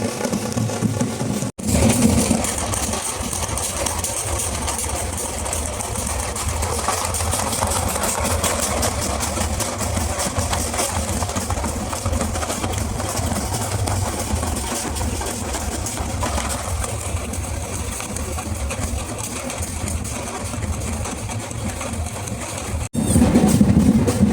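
A tractor engine idles close by for the whole stretch, a low continuous rumble with a faint mechanical rattle and no voices, at a Ganesh immersion procession in Challakere.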